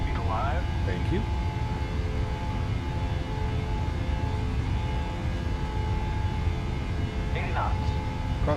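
Airliner engines spooling at takeoff power in Microsoft Flight Simulator, a steady faint roar and whine over the full stretch with brief cockpit chirps near the start and end.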